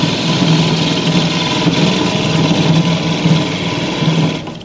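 A parting tool makes its first cut into spinning wood on a lathe while turning a bird feeder. A loud, steady whirring drone holds for several seconds, then tapers off near the end, with no talking.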